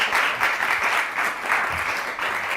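An audience at a televised political review discussion applauds steadily and loudly, with a dense clapping texture throughout and no talking.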